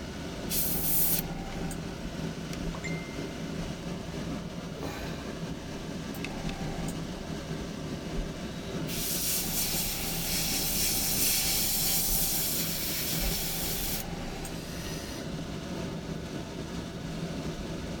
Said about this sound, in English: Just going to spray the last of the white out here.